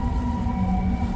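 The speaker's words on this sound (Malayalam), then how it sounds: "ഡി ട്രെയിൻ ആയിരിക്കും" Steady, loud rumble of a D train subway running beneath Canal Street in New York's Chinatown, a continuous low roar with a faint sustained whine above it and no talking.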